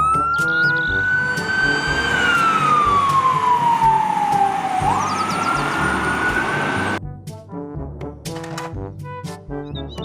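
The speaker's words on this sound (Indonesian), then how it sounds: "Mobil pemadam kebakaran." A toy fire truck's electronic siren wails loudly, sweeping slowly up and down in pitch, then cuts to a quicker, choppier pattern of repeated tones.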